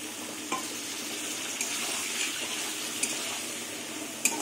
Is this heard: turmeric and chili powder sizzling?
yes